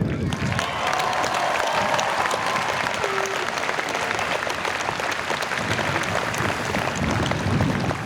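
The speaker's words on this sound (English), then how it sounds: "So a big round of applause for parents and family." Loud, sustained applause from a commencement crowd honoring graduates' parents and families, dense clapping that holds steady throughout with faint cheering mixed in.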